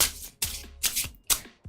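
Four bursts of rapid riffling as a tarot deck is shuffled, close up and repeated in quick succession.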